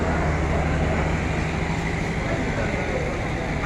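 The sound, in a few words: Kanchan Commuter train passing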